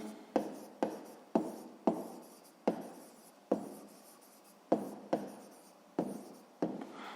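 Pen strokes on paper as a math answer is written out by hand, a steady run of about a dozen short, crisp scratches that each fade quickly, close up with no talk.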